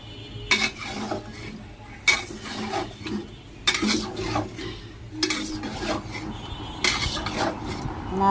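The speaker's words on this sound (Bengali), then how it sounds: "নাড়াচাড়া করতেছি।" Pabda fish curry with potato and eggplant is stirred in a pan, giving repeated scraping and clattering strokes of a utensil against metal in bursts about every one to two seconds over a low simmering background.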